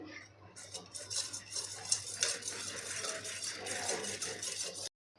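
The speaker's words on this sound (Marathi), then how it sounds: "आता आपल्याला थोडीशी घोटून घ्यायची आहे या पद्धतीने घोटून घ्यायची आहे" Cooked dal being mashed and beaten in a pot with a utensil, a steady scraping, clattering texture of metal against the vessel running continuously at close range before stopping abruptly.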